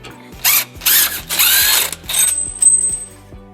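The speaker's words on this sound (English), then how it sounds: "we're going to use a 12mm socket to remove these 2 bolts from the hanger" A ratchet with a 12mm socket works loose bolts from a hitch hanger on a 2006 Nissan Murano, giving several short, loud, rasping clicking bursts close by, followed by a faint high whine.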